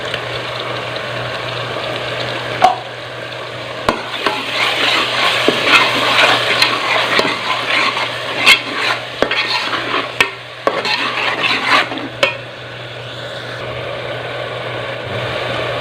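Tomato paste and chopped green chillies sizzle in a pan while a spoon stirs them, with scraping and clinking against the metal in irregular bursts over a steady frying hiss and a low constant hum.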